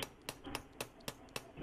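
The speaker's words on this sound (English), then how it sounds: "I am just hammering the length of the wire after" A hammer strikes jewelry wire for a wire-wrapped bangle, six or seven sharp, evenly spaced taps in quick succession, close and fairly quiet, with no talking.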